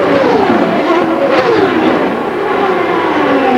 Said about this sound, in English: you can hear the engine note change